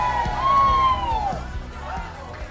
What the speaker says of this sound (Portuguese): dá grito de guerra no nome de Jesus.